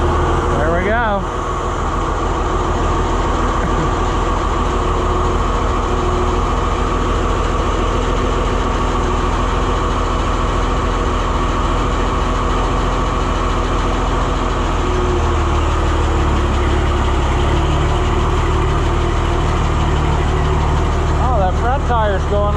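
An engine idles after a cold start while running hydraulics for a White 5100 planter. It gives a loud, steady, close-up drone with a low rumble that holds constant for the whole stretch.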